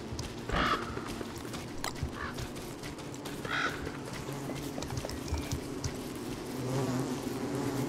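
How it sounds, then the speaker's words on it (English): Insect buzzing from bees near a flower garden in the video game Don't Starve, a steady drone over background game sounds with occasional sharper chirps, no talking. "right next to it are the bees that harvest these flowers"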